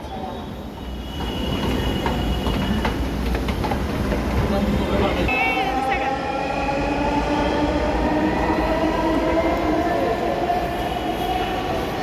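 A metro train arrives at an elevated station platform, with loud rumbling and squealing wheels whose pitch glides as it slows. People talk faintly in the background.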